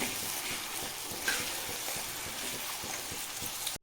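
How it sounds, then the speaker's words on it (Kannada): Onion frying in a pan for chicken kheema, giving a soft continuous sizzle and crackle, steady and fairly quiet, heard close with no talking over it. "ಮೀನ್ವೈಲ್ ಇದು ಆನಿಯನ್ ಫ್ರೈ ಆಗ್ತಾ ಇದೆ."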